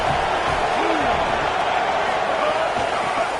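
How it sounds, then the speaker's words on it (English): Stadium crowd at a Michigan versus Mississippi State college football bowl game, a steady, dense roar of many voices filling the whole stretch, with a brief distant whoop rising early on. "This crowd bringing the energy and noise early."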